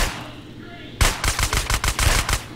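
Gunfire in the video game GTA San Andreas: a loud burst of rapid, evenly spaced shots rattles out after a quiet moment, about a dozen sharp cracks in quick succession.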